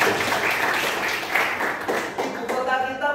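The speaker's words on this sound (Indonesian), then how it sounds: "tepuk tangan dulu" Applause fills a Paskibraka 2023 flag-troop training session, a steady wash of clapping from a group that carries on under a voice speaking over it throughout.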